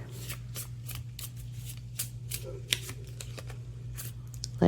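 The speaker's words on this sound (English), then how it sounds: "I'm going to pull 2 cards." Oracle question cards riffle and slap together in quick, repeated shuffles at close range, a crisp papery rhythm of bursts over a low steady hum, with no talking.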